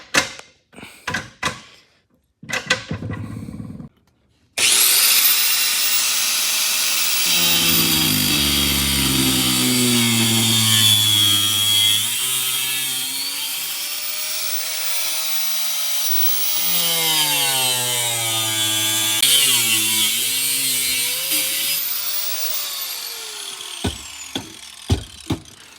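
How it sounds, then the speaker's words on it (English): A grinder cuts through the steel floorboard of a 2003 truck with a 6.0 engine during a manual transmission swap, a loud continuous whine with shifting pitch that runs for about twenty seconds after a few short bursts. "I'm gonna grab a grinder, make my cuts, because this tower has to come through the floorboard"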